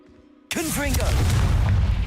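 A Confringo blasting spell in Hogwarts Legacy detonates suddenly after a moment of near quiet, a loud booming explosion that rumbles on and stays heavy as a voice sounds over its onset.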